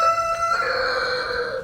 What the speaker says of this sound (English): my rooster answered